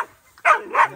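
Hunting dogs on a feral pig hunt in central New South Wales give two sharp, close barks in quick succession.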